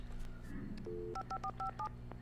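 Touch-tone keys on a telephone in the video game Alan Wake are pressed in a quick sequence of about six short beeps after a brief dial tone, clear and close.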